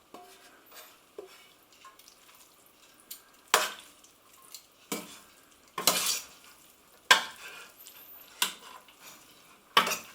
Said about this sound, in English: transfer the sauce onto the spaghetti and then give it a good stir